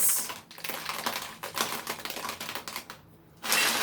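Dried beans rattle inside a homemade maraca shaker in quick, dry, gritty bursts with short pauses between shakes. The sound is close and fairly loud, with no voice over it.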